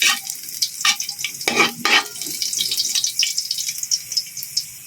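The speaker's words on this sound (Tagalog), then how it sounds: "Pulahin lang natin yung ating bawang. Yan, halaluin nyo lang." Garlic frying in a pan for ginataang tulingan, stirred so the bright hiss of oil comes in uneven surges with a few scraping strokes, close and loud with no talking.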